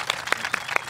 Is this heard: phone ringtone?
no